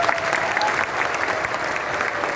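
Audience applause for the directors at a Modicare event in a Patna memorial hall: dense, steady clapping from a large crowd, loud and sustained throughout with no pauses.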